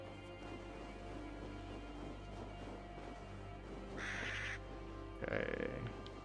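Two raspy bird caws ring out a second apart in AC Valhalla, fairly close, over a quiet, humming outdoor game ambience.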